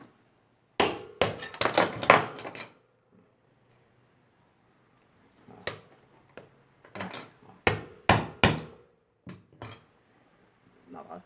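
A screwdriver is tapped to knock a bushing out of a Mallory fan, giving clusters of sharp, close metallic knocks separated by quiet pauses.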